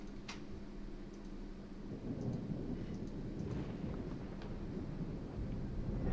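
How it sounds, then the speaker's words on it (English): Thunder in a video game rumbles low and steady across the whole stretch, a continuous rolling wash with faint patter of rain on top and no voices. "Was that thunder?"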